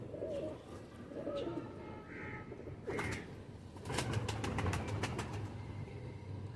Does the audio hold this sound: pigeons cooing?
yes